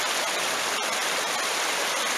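A spring creek flows steadily, a dense unbroken hiss and burble of running water close by, with no voices.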